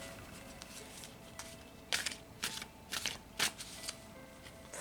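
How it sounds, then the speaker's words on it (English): A tarot card drawn from a deck: a handful of quick, crisp papery flicks and slides, close and quiet, over a faint background. "I'll take one more card from this deck."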